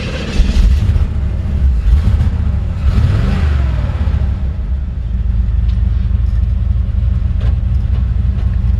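A 1955 Chevrolet short bed pickup on a Silverado chassis with a 350 V8 and automatic transmission drives along, giving a loud, close, steady low rumble that swells as it accelerates.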